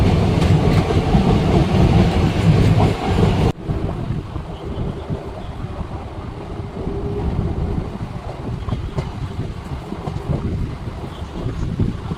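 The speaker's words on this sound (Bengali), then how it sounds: "ঢাকা এক্সপ্রেস স্পেশাল ট্রেন এই ট্রেনটি প্রতিদিনই স্পেশাল ট্রেন" The Dhaka Express special train, a daily service between Rampurhat and Katwa Junction, rumbles along the tracks with a loud, continuous roar and clatter heard from on board, with wind buffeting the microphone, then settles into a steadier, slightly quieter rolling noise.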